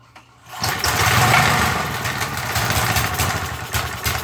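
A 3.5 hp Briggs & Stratton engine on an MTD edger, with the choke on and the throttle set to fast, catches after a short pull and settles into a loud, steady, buzzing run.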